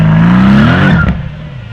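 A 2017 Mercedes C63 AMG V8 bi-turbo revs loud and close, the engine note climbing steadily for nearly a second and then dropping off into a lower burble.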